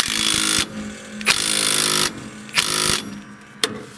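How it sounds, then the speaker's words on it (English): Impact wrench tightening the pulley bolt on a John Deere riding mower during a drive belt replacement, several loud rattling bursts separated by short pauses, close up and with no talk. "I'll tighten up the bolt here. I've got my impact set for the right tightness."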